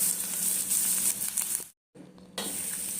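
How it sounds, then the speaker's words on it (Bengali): Chopped garlic and onion fry lightly in oil for methi-aloo sabzi, a close, steady sizzle that cuts out completely for a moment before resuming at the same level. "এবার রসুনও আমি হালকা ভেজে নিচ্ছি।"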